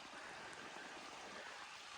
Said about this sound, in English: We got a little stream right here